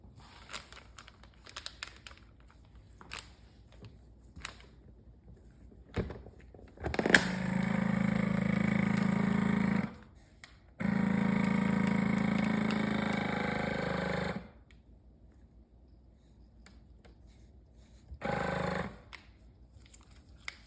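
A vacuum sealer pulls the air out of bags of cut top sirloin steak. It runs in two long, loud, steady hums separated by a brief gap, then gives a shorter burst later amid quiet handling noises.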